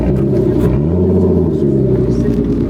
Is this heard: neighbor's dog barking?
no